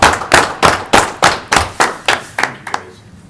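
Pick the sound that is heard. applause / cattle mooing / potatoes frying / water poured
applause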